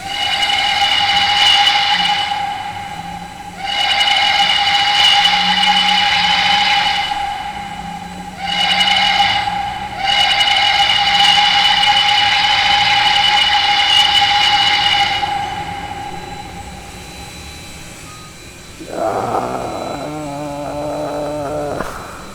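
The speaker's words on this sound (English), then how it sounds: "So that's supposed to be the Banshee whistle." A Banshee steam whistle on a PRR I1sa 2-10-0 locomotive in the Trainz 2019 game blows in four shrill, hissing blasts of several seconds each, some longer than others, followed by a brief rattling mechanical sound.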